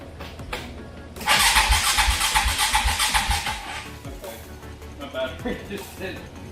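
A dirt bike with a dead battery is cranked, a close, loud rhythmic churning of the starter that runs for a few seconds without catching, followed by quieter mechanical sounds.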